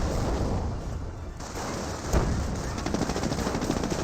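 Panzer half-tracks in a Company of Heroes battle fire in sustained bursts of machine-gun rattle, loud and continuous throughout with a sharp crack near the middle.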